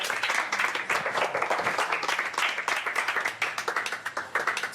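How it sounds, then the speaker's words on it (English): A crowd at a talk about defeating depression gives a round of applause for a woman who has shared her story, a steady, fairly soft wash of many hands clapping throughout. "I'd like you all to give her a big round of applause"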